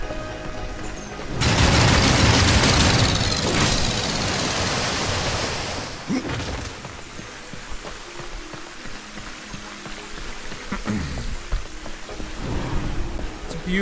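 Rushing water in the Water Temple of Darksiders II, a broad roaring wash that swells loud after a moment, then settles into a steadier churning flow with occasional splashy bursts.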